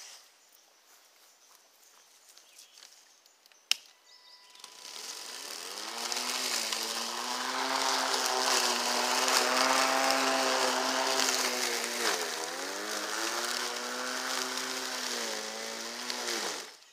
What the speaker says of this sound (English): You can't rush this mower. It's a very slow and calculated process mowing with this.